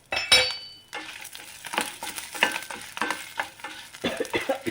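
Curry leaves frying in a drop of oil over a low flame while making pumpkin seed chutney powder, giving a crackly sizzle broken by stirring scrapes and a few metallic clinks of a spoon against the pan, close and moderately loud.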